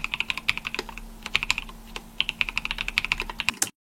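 Fingers type quickly on a custom-built keyboard with wooden keys, a dense run of crisp, close clicks and clacks with brief pauses between bursts.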